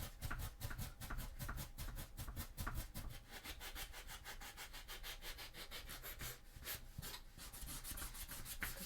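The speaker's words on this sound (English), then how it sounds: "Just giving that a sand." Hand sanding of a cosplay chainsword prop, a quiet, close rhythmic scratching as the abrasive rubs back and forth in steady strokes, with a few faster passes later.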